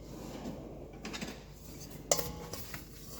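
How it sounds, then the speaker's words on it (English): Utensils clink and scrape against a bowl while ingredients are mixed with a teaspoon of sugar for samosa dough, with one sharper knock partway through, close and moderately loud with no talk. "1 teaspoon of sugar. Keep that low sweet, and you mix it."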